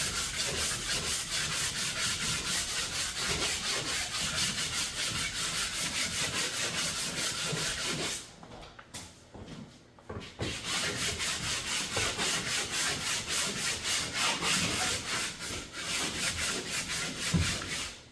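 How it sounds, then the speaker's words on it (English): Steady, continuous scraping of a pole sander held flat against a rough drywall patch, rubbing for about eight seconds, pausing briefly, then resuming with the same close, loud abrasive strokes. "Try to pole sand it first."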